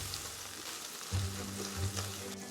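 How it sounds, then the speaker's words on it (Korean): Anchovies fry in oil with leek and garlic, a soft, steady sizzle with brief louder bursts of stirring and scraping in the pan, no talk. "엔초비를 이렇게 넣고 볶는 거구나."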